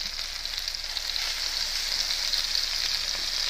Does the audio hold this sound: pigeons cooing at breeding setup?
no